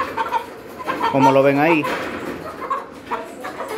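A rooster kept in a coop setup gives a short clucking call mid-clip, close and clear, while someone talks before and after it.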